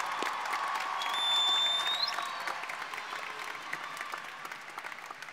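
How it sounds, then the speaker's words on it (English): Graduation crowd at a high school ceremony applauds bilingual students, a steady wash of many hands clapping at moderate distance that swells briefly and then eases off, with faint voices mixed in. "Let's give them a round of applause."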